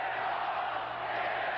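Arena football crowd at the Superdome in New Orleans during a 1991 Dallas Texans game, applauding in a steady, dense wash of noise that holds evenly from start to finish.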